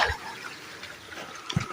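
A hill-fed stream runs past a muddy channel near a village home, giving a soft, steady wash of flowing water with a few faint splashes, heard at a distance and fairly quiet.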